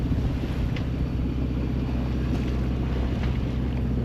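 A sailboat runs under strong wind toward an anchorage, with a steady low rush of wind and water against the hull and constant buffeting on the microphone.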